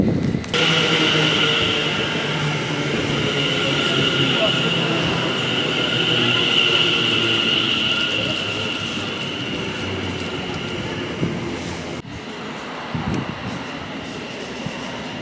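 A train at Barking station in London rumbles along the platform with a loud sustained roar and a high whine, then drops to a quieter idling hum after a sudden cut, with voices in the background.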